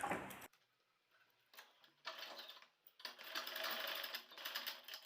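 A sewing machine runs in short bursts while stitching a pajama with a gathered flare, a quick whirring run at the start, a few brief stitches, then a longer steady run near the end, close by.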